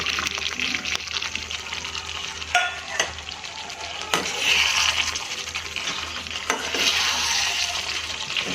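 Pieces of yam (suran) go into a pan of spiced Indian gravy and fry with a continuous sizzle, broken by stirring scrapes and occasional metallic clinks, close up with no voices.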